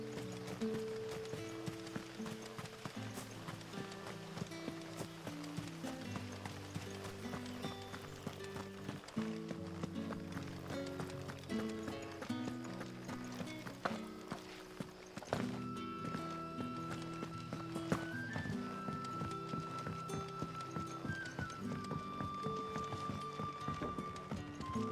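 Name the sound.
footsteps of a ridden mount in video game Final Fantasy XVI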